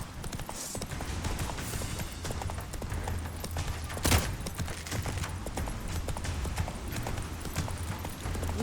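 A horse gallops in The Witcher 3, with rapid, steady hoofbeats drumming close and continuous throughout under faint game ambience and no talking.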